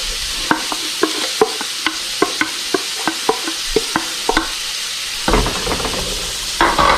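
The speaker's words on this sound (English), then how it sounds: "get them brown and get some flavor on them with the onion and garlic," Pork with onion and garlic cooking in a Ninja Foodi, with a dozen sharp scraping stirs at an irregular rhythm over a soft sizzle, then a louder burst of frying hiss toward the end, close and with no talking.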